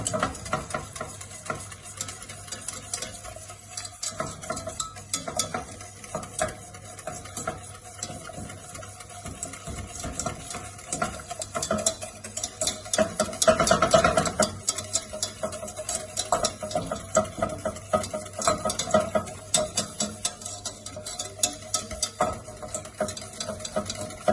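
A Thermomix food processor mixes ingredients for eggs Florentine, giving a steady mechanical churning with rapid ticking pulses that swell slightly midway, with no talk.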